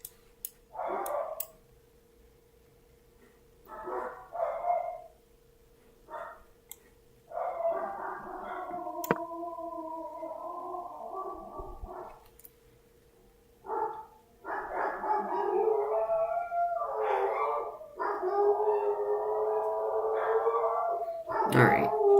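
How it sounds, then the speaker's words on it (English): Several pet dogs bark and howl loudly indoors in repeated bursts, some long drawn-out howls among sharper barks, with brief pauses between outbursts and a faint steady tone underneath. "I think my dogs are barking right now, so they're actually barking very loud."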